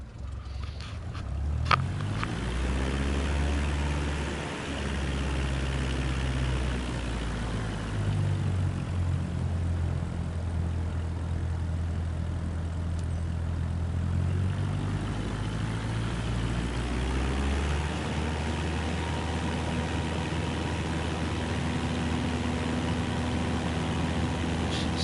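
Propeller airplane in Microsoft Flight Simulator 2024 taking off from runway 36 on a west departure, a steady loud engine drone whose pitch climbs and shifts as power builds and the aircraft accelerates, continuous throughout with no talk.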